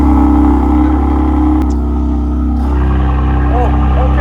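A BMW M2 CS with a loud dyno exhaust idles with a deep, droning engine rumble, steady and close, while people talk over it.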